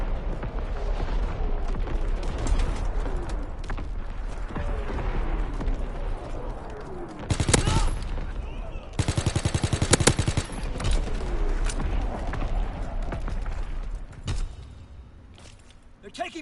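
Rapid bursts of gunfire from an incoming strafing run in a PS4 war shooter: a heavy, loud roar peaks near the middle, amid constant battlefield noise and distant shooting, with a voice speaking at times.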